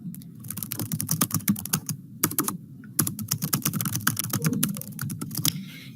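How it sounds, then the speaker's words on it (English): Typing a message on a computer keyboard: rapid, close key clicks in quick bursts, with two short pauses between runs of keystrokes. "I can then type my message in this area right here"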